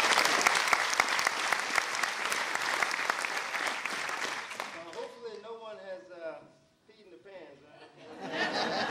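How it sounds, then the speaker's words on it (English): A live show audience claps loudly in a thick, continuous burst that breaks off midway, leaving scattered chatter and light laughter before the clapping swells again. "if you continue to clap your hands with me"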